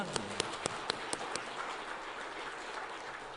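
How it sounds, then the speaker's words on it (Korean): A church congregation applauds during an Easter Sunday service, giving a faint, steady wash of clapping at a distance, with a few sharper taps near the start. "우리 인사드릴 때 박수로 격려해 주시겠습니다"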